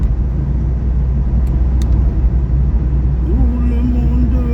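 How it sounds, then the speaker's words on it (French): Vehicles rush past at high speed on a street, a steady loud rumble of road traffic and engines filling the whole stretch, with a brief rising engine tone near the end. "Des véhicules qui sortent de je ne sais où, ils sont à vive allure"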